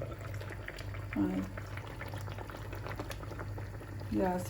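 Egg curry simmers in a covered pot over a medium flame, a soft bubbling boil running under quiet speech, with two brief louder bursts of bubbling.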